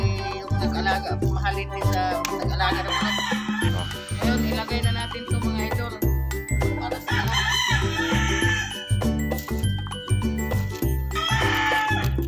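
A red rooster crows in repeated calls and clucks near a feeder, its bursts rising loudly over a steady, thumping background beat with no talking.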